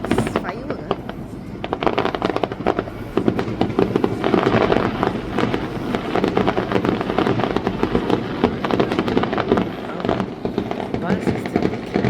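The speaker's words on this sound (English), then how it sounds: "It's about 10 minutes firework." New Year's fireworks to welcome 2026 crackle and pop continuously in dense, rapid bursts, loud and close, with a steady barrage throughout.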